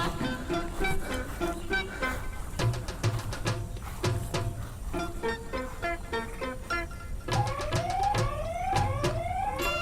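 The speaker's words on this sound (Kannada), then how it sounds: "ಸೈರನ್ ನಡ್ಕೊತಾ ಇದೆ." A repeating electronic CCTV camera siren with rising, looping tones plays continuously in a garden, moderately loud, mixed with rapid chirping bursts and some background noise.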